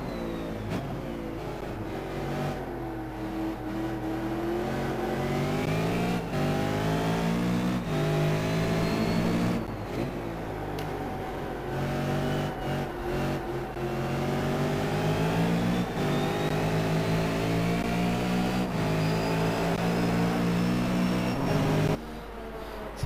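V8 Supercar race cars scream around Phillip Island in a racing game, several high-revving engines whining and shifting through gears, pitch rising and dropping repeatedly in a steady, loud, continuous drone with no talk.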